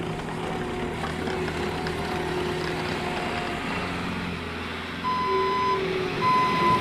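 2020 Bobcat T76 compact track loader running with a steady diesel engine drone, then its reversing alarm starts beeping in evenly spaced tones, close by with no talking.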